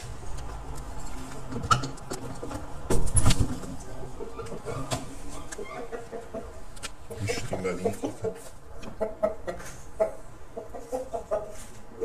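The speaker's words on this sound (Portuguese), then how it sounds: "É um galo ou uma galinha?" A rooster or hen clucks several times under steady background noise, with a louder burst near the start, while a person talks nearby.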